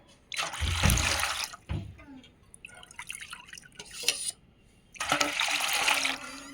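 Sour curd being churned into buttermilk with liquid pouring and splashing, two louder bursts of sloshing at the start and end with softer drips and clinks between, close by.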